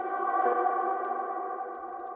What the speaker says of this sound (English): I've taken one shot to the vocals, sent them to a reverb, flipped them around, and added a couple other effects to get a really cool atmospheric feel.